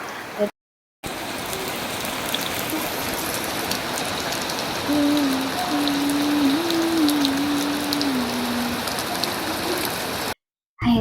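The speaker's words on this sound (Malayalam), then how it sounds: "മഴ വീണ്ടും പെയ്തുകൊണ്ടിരിക്കുന്നതാണ് കേട്ടോ അന്നത്തെ ദിവസമൊക്കെ ഭയങ്കര മഴ ഇപ്പോഴും മഴ പെയ്തുകൊണ്ടിരിക്കുന്നതാണ് കേട്ടോ" Rain falling steadily outdoors, a dense even hiss of drops throughout, briefly cut by two short gaps, with a faint tonal hum in the middle stretch.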